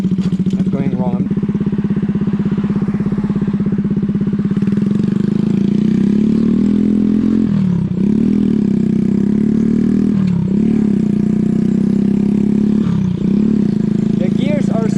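A Skyteam PBR motorcycle engine runs close and loud at a steady idle hum, with a few short throttle blips dipping and rising the tone, while someone talks over it.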